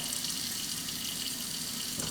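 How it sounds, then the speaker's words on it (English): Water pours steadily from a Kohler touchless smart faucet into a kitchen sink, a continuous close hiss and splash with no voices. "This is a Kohler Smart Sink"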